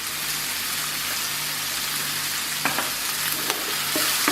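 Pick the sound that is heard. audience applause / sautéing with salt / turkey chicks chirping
sautéing with salt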